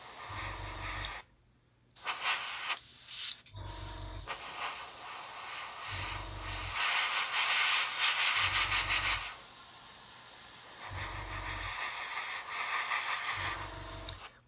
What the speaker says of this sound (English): I'm just going to blow that back and dry that down with the airbrush.